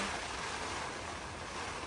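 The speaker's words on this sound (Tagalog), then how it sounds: "Dumaan lang yung matinding hangin." A strong gust of wind sweeps over a campsite during heavy rain, a steady, loud, broadband roar that fills the whole moment with no voices.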